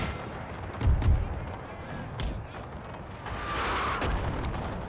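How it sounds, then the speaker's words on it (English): Enemy howitzer artillery fire in a war strategy game set in the 1864 Prussian-Dutch War: a deep, muffled boom stands out near the start, with softer distant rumbles trailing over a constant noisy battlefield bed. "And is that enemy howitzers?"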